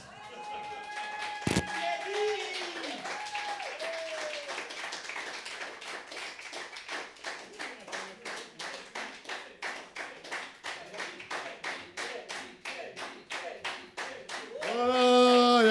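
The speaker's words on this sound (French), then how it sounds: "Je vous demande d'applaudir." Audience at a slam poetry tournament clapping in a steady rhythmic unison beat, moderately loud, with voices and shouts over it and a louder burst at the end.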